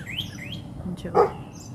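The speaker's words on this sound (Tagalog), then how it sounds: "May red bird." A few short chirps from a red bird ring out over a steady outdoor background hum, moderately close, with a brighter call near the end.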